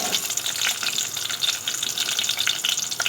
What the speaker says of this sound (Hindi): अब हम लहसुन को फ्राई करेंगे।